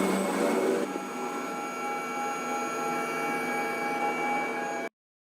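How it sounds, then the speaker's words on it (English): Two helicopters flying high above an 11-vehicle convoy over Naples, a steady broadband engine and rotor drone with faint tonal lines, continuous and unbroken until it cuts off abruptly near the end. "High above Naples, 2 helicopters follow an 11-vehicle convoy"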